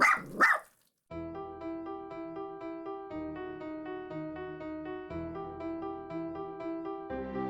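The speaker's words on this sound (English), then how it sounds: "Make the lizard stop barking!" A lizard creature barks in a video game: two quick loud yips at the start, followed by steady game music with no voices.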